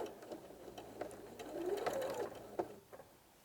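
A sewing machine stitches a kneeling cushion around its corners, giving a faint rapid whirring run with small clicks and brief pauses as the fabric is turned, no voices.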